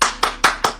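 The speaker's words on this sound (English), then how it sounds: "cue in applause" Four crisp hand claps in an even, quick rhythm, close and loud, with no other sound around them.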